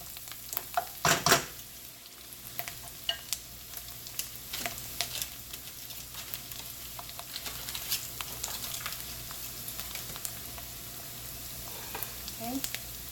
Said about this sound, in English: And then I'm going to cook my shrimp.